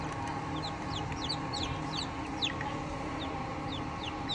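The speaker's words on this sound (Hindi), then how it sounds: "जो फर्टाइल एग्स थे हमारे, ये चूज़े चूज़े उसमें से निकल रहे हैं।" Newly hatched Golden Misri chicks peep in rapid high chirps over a constant murmur of clucking chickens on a poultry farm, a dense, steady chorus heard close up throughout.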